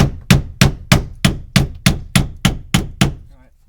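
A hammer taps shims under a closet header, ten sharp evenly spaced knocks about a third of a second apart, close and loud, each ringing briefly before the next.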